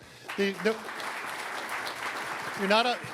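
Scattered applause from a crowd, continuous and moderate, with someone talking over it at the start and again near the end.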